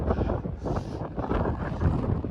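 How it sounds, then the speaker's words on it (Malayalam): Strong coastal wind on the ferry route toward the Cliffs of Moher, a constant heavy rumble and buffeting against the microphone with no voices. "അത്രയും കാറ്റുണ്ട്"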